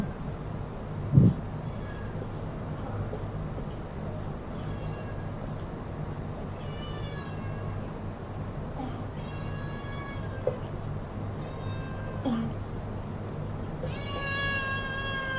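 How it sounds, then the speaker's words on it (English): A cat meows several times, short harmonic calls scattered across the stretch with a longer, louder meow near the end, over steady low background hum. "The cat is meowing."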